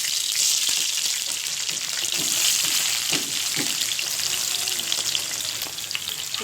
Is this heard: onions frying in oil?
yes